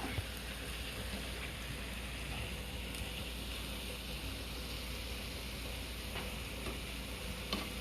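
Cabbage and kielbasa fry in a pan with a steady, dense sizzle and crackle that holds evenly throughout, close by and with no talking.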